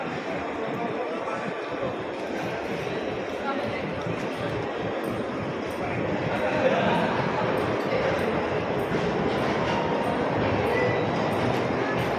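A train pulls into a station with a steady rumble of wheels and carriages that grows slightly louder partway through, heard from the platform among faint background noise.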